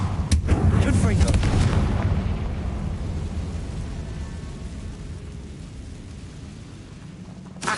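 A Confringo blasting spell in Hogwarts Legacy bursts into a loud rumbling explosion that booms up front and then rolls away into a long fading roar, with a voice briefly over it.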